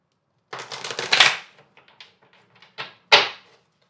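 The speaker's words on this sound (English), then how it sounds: "Let me just do one more shuffle here." A deck of oracle cards being shuffled close by, a short burst of riffling then a pause and a second quick snap of cards, with no talking.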